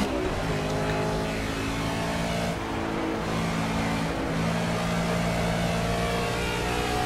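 GT3 race car in Project CARS at Road America, a rear-wheel-drive machine of about 450 horsepower and 4360 cc, roars loudly and steadily with rising and falling gear changes, close and constant throughout.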